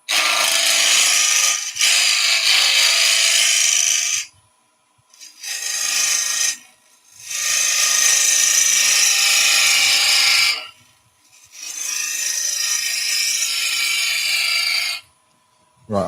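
A skew chisel cuts a wooden bowl on a lathe, making loud, close, scraping bursts of several seconds each, separated by brief pauses.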